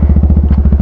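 Bajaj Pulsar N250 motorcycle with a full-system aftermarket exhaust idles up close, a loud, deep, evenly pulsing thump repeating rapidly and alone.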